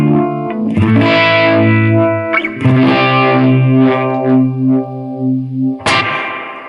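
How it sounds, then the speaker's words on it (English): An electric guitar played through a univibe effect plays a funky bridge riff, sustained distorted notes warbling with a phasey, wah-like sweep, loud and alone, with a brief pick scrape near the end. "I really like the vibe on the bridge riff, because it almost sounds like a wah, but it's not a wah."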